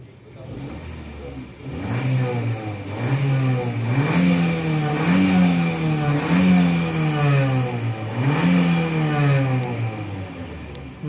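A 2004 Honda City engine, which jerks under acceleration, revs up and down in repeated surges of mid-pitched engine sound, fairly close and steady, with someone speaking over it.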